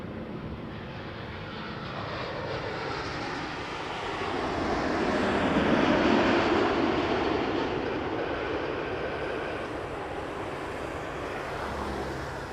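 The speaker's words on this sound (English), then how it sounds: "7879 Dreamliner from Frankfurt just flew over our heads." A Boeing 787-9 Dreamliner inbound from Frankfurt passes overhead near Toronto Pearson Airport at night, its broad jet roar building to a peak midway and then slowly fading.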